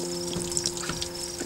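Water poured into a leaking homemade DIY hot tub, a steady splashing, trickling flow close by with no voices over it.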